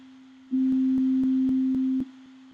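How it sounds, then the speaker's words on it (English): A steady pure tone switches on abruptly, holds for about a second and a half, then drops back to a faint level, with soft regular clicks throughout. "I have here a sine wave jumping."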